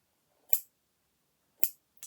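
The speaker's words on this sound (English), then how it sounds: "now it's a matter of going back and cutting the loops" Scissors snip embroidery thread loops in two crisp, close cuts about a second apart, with the start of a third, in an otherwise quiet room.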